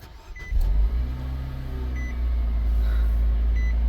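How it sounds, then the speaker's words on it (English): A Nissan Juke is started: a short click and whirr of the starter, then the engine catches and settles into a steady, close idle rumble. "So what you will do next, you will start the vehicle."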